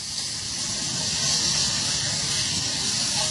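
Thin meat sizzles loudly and continuously as it goes down on a hot pan, a broad, steady hiss filling the whole moment with no voices.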